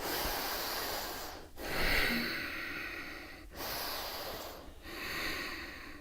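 Slow, deep breaths during yoga practice: long airy inhales and exhales follow one another, close and soft, with short pauses between them and no talk.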